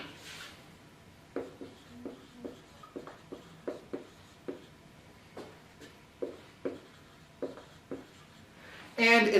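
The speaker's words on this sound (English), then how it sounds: "Let me actually erase this to give us a little more room." A lecture board being erased by hand, a steady series of short rubbing strokes in a quiet lecture room, evenly paced across the span, ending in a brief louder sound.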